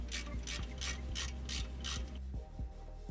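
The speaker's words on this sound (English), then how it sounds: "Then just get the wrench and tie it, but don't tie it all the way." Ratchet wrench tightening a bolt on the rear brake of a 1999–2004 Ford Mustang, a fast run of close mechanical clicks over a steady shop hum, then a few slower clicks.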